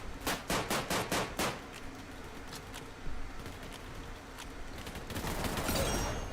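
A rapid burst of automatic gunfire from a weapon with heavy recoil in a Roblox game, about eight sharp shots in quick rhythm, then scattered single shots over a noisy background that swells toward the end.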